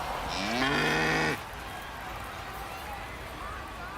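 A cow moos in MLB The Show 26, a loud, drawn-out low bellow lasting about a second, followed by steady background crowd noise of a ballpark.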